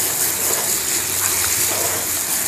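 Water pours from above onto an aglaonema plant in a pot, a steady close rushing gush that lasts throughout with no talking.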